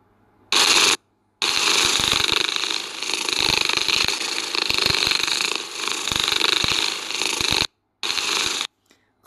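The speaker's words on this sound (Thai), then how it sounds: "หรือจะเป็นเสียงขนสัตว์ก็ได้นะครับ" A fur sound effect from an ASMR slime simulator app plays as soft, dense rustling and brushing, starting and stopping in a few bursts with brief silent gaps, close and fairly quiet.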